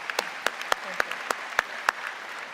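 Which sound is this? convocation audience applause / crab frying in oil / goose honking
convocation audience applause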